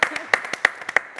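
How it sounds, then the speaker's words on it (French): A studio audience on a television talk show applauds a tennis champion, with roughly ten crisp, distinct claps in an uneven rhythm, fairly loud and close, over a brief moment. "j'aimerais tout de même qu'on applaudisse encore"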